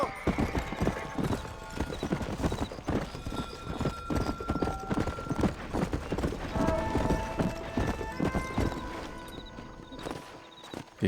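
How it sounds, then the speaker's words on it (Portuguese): A rider's horse in the Red Dead Redemption video game clip-clops steadily toward the listener, its hooves sounding loud and rhythmic throughout, with a brief whinny mixed into the game soundtrack. "Meu cavalo tá... Ah, tá vindo."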